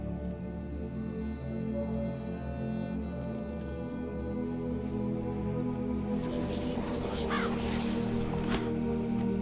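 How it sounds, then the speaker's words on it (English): A raven caws in The Witcher 3: Blood and Wine, heard over a steady game ambience with droning background tones; the calls are moderately loud and stand apart from the music bed. "What was that? A raven?"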